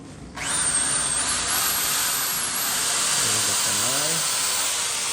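A power drill spins up abruptly and runs steadily at a high-pitched whine, close and loud, with a brief speed wobble before settling, while a voice talks faintly underneath.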